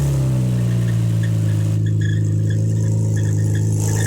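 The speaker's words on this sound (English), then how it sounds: "driving around with no exhaust muffling, so I need to eliminate the noise ASAP" A car engine runs with a detached rear catalytic converter and no exhaust muffling, giving a loud, steady, raw drone that holds throughout with no one talking.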